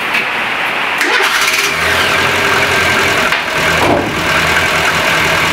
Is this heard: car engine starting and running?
yes